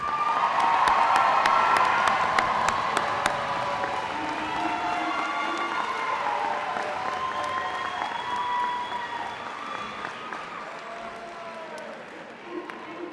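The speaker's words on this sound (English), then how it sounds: "Please join me in yet another round of applause for them." At a Challenger High School class of 2018 graduation ceremony in an auditorium, the audience breaks into sustained applause with cheers and whoops, strongest at first and gradually thinning over about thirteen seconds.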